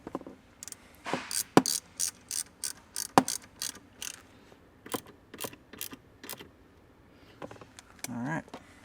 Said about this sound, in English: Tighten this back up.